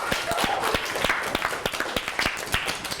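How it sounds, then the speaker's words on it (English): Students in a classroom receive a round of applause: scattered, fairly sparse claps from a small group, moderately loud and close, with no speech over them. "Give them a round of applause."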